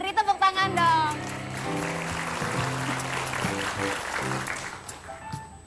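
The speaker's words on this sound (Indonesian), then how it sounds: "tepuk tangan dong" A studio audience claps on an Indonesian television talk show about magic tricks. The applause runs under music and voices, starting with a few sharp claps.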